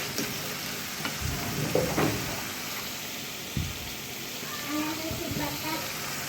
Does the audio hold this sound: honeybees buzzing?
no